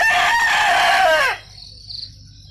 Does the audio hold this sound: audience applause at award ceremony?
no